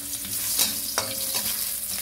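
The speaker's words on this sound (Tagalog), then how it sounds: "Gisa-gisa luya." Ginger sautéing in hot oil in a pan, a constant close sizzle with a couple of quick scraping stir strokes, no voices.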